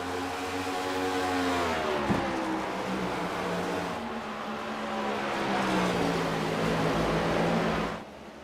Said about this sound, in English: Jason Cameron Jr. trying to make a move happen to the Camaros taking on each other